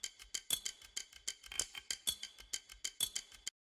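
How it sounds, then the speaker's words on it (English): Glass bottle Foley percussion layered with a shaker in a K-pop beat, crisp clinking hits and bright ticks in a steady, quick looping rhythm, dry and close. "it's kind of like glass bottle sound along with the shaker"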